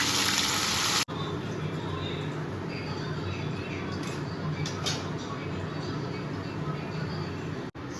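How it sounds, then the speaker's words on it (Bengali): Fish frying one by one in hot oil, a steady soft sizzle and crackle running throughout, close and even, with a sharp clatter at the start and near the end. "এবার তেল গরম করে এক এক করে সব মাছগুলো ভেজে নেব।"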